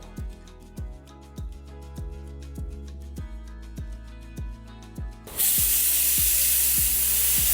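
A pressure cooker cooking dal bursts into a loud, steady steam whistle after several seconds of rhythmic rattling and clinking from the weight, the hissing blast continuing to the end.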